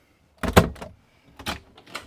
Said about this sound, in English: So I'm going to shut this door, right?